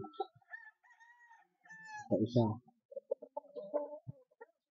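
Chickens cluck and a rooster gives a short crow nearby, with a voice speaking briefly among the birds.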